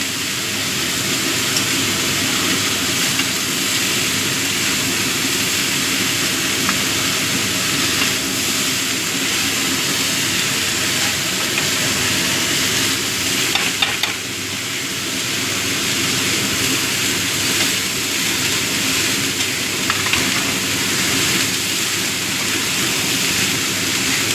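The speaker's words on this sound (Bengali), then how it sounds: "ফুলকপিটা একটু ভেজে নেবো" Cauliflower frying in a pan for phulkopir bharta makes a loud, continuous sizzle and hiss that stays close and even for the whole stretch, broken only by a brief stir, with no voices.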